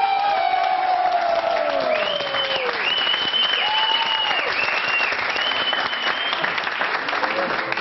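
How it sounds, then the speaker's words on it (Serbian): An audience at a televised reality show breaks into loud, continuous applause mixed with high screams and cheering, steady throughout and heard close. "sada čuješ kako ide jedan aplauz i vrista"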